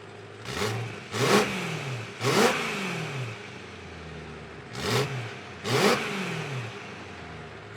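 Five sharp engine revs blip up and drop back, each a loud throaty burst from a deep Ali Baba aftermarket exhaust, separated by brief pauses near the car.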